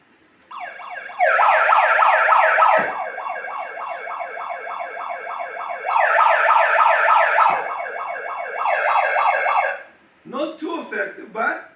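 A pump running behind a panel of ordinary 4 mm corrugated cardboard, giving a loud, rapidly warbling mechanical whine in two long stretches, followed by choppier bursts at the end.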